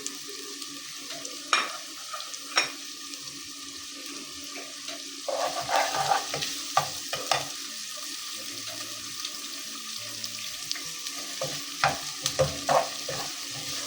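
Whole spices and beef stir-fry in a pan, with bay leaves, cinnamon, cloves, cardamom and peppercorns. A soft steady sizzle runs under scattered scraping stirs and clinks, with a few louder spatula strokes.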